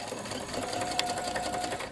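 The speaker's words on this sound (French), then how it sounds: "Donc je couds bien à 1 cm tout autour." A sewing machine stitches around a dress pocket at a 1 cm seam allowance, running as a steady, close, continuous whir for about two seconds with no talking.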